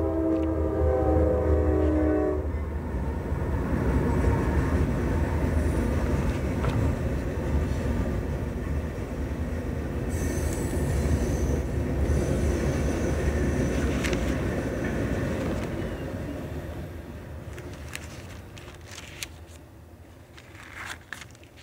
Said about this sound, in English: Here comes a quick train.